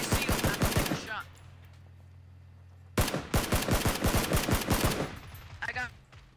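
Gunfire in a battle royale video game: two rapid bursts of sharp repeated shots, each lasting over a second, separated by a quiet pause, with a faint voice between them.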